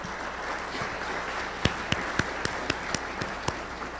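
A crowd at a summer conference in Tucson breaks into applause, a dense wash of many hands with a few sharper individual claps standing out near the microphone.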